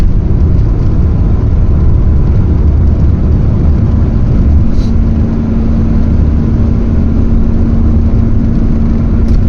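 A vintage VW T3/T25 van engine accelerating on the A537 Cat and Fiddle road drones loudly and steadily close by, a constant mechanical hum with a faint whine, and no voices.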